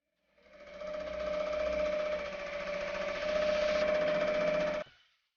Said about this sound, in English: we just have to press the start button and let the machine do its thing